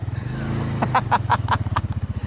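A motorcycle engine chugs in close, rhythmic pulses while riding, with a voice briefly talking over it.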